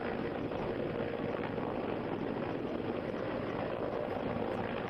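Indian Air Force rescue helicopter at a flooded river near a dam in Jammu, its rotor and engine giving a loud, steady, continuous roar with no talk over it.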